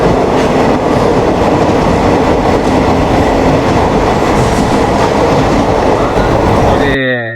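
A passenger train on the Kollam to Sengottai line, heard from inside a sleeper coach, gives a loud, steady rumble with rhythmic wheel clatter on the tracks, cutting off abruptly near the end.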